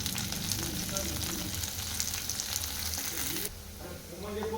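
Green chillies and curry leaves fry with onion in hot oil while being stirred, giving a steady close sizzle that drops slightly near the end, with no talking.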